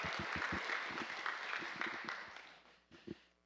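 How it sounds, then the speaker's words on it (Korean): Applause from a church congregation during an evangelism training session, a steady mass of clapping that gradually thins and fades out, with a few scattered last claps near the end. "우리 나오실 때 박수 한번 부탁드리겠습니다."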